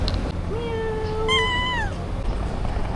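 A cat at a cat shelter gives two drawn-out meows one after the other, clear and close, over a steady low background hum.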